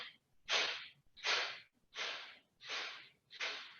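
Five rhythmic, forceful exhales puff out through the nose during a yoga breathing exercise, evenly spaced panting breaths, close and fairly soft, with no talking.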